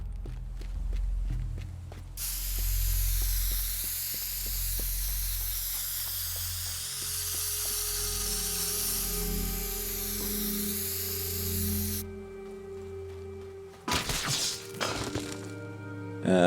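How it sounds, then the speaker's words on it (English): Spray can hissing in the video game Teardown as a route is marked, long steady hiss over footsteps and game ambience, followed by clattering impacts near the end. "So we're going to spray a good route here."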